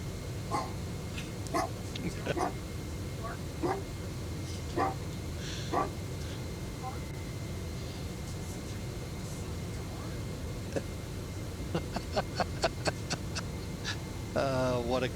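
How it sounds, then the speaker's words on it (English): A dog yips, whimpers and barks in scattered short bursts, fairly faint and at a distance, with a quicker cluster of sharper yelps toward the end. "What a guard dog."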